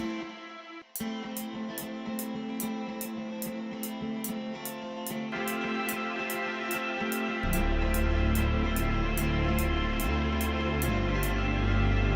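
A synthesizer preset in FL Studio plays a steady electronic pattern with regular bright ticks on top, and a deep bass line joins partway through, loud and continuous.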